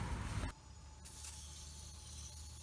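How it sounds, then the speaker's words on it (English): A low pressure washer sprays water over the coil of an Ecodan heat pump outdoor unit, a loud burst of hiss at the start, then a steadier softer spray rush continuing to the end. "low pressure washer here. Just spray my way through."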